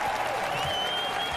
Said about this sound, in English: I'm going to play some applause for you too.